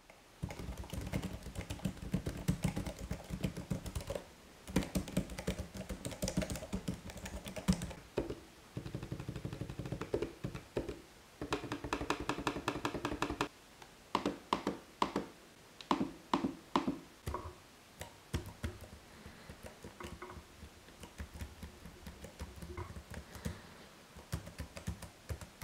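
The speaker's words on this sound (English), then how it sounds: "Check out for yourself if the keyboard is too loud and noisy for you." Typing on a Lenovo ThinkPad E460 laptop keyboard, quick bursts of clicky keystrokes with short pauses between runs, close and fairly quiet with no talking.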